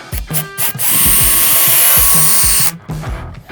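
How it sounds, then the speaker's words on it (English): A power drill whirs loudly and steadily for a couple of seconds boring a 1/2-inch hole, with brief tool bursts and clunks before and after. "I'm going to drill a hole directly in the center"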